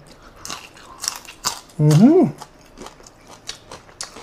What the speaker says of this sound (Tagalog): Crunchy.